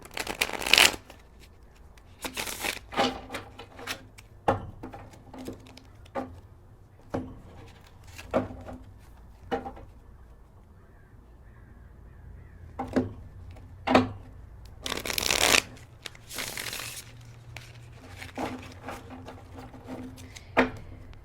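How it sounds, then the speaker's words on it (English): Tarot cards are shuffled repeatedly at close range, crisp riffling bursts and soft slaps coming in irregular spurts with quiet pauses between. "Just gonna shuffle your cards up a little bit."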